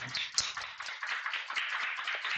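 Workshop attendees applauding at the close of a QEMU Linux operating-system simulation workshop: a steady, bright patter of many hands clapping at once, moderately loud and continuous throughout, with no voices.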